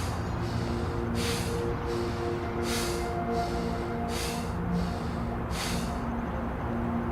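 Five forceful, rhythmic nasal exhalations of abdominal kriya meditation breathing, each a sharp snort-like puff spaced about a second apart, close to the microphone over a low steady hum.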